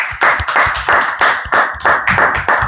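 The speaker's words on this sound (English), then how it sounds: "you're all supposed to clap for the person who is speaking" An audience at an English-learning class session claps steadily in a rhythmic, fairly loud burst of many hands, with no voices over it.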